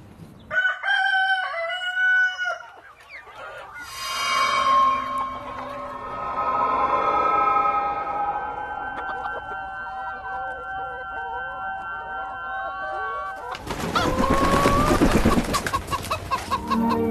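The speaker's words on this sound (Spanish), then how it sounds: "Una permanente tertulia de cacareos se organiza cada día en esta granja de Reus." Chickens on a farm in Reus cluck steadily while a rooster crows loudly and repeatedly up close, ending in a burst of noisy flapping and squawking.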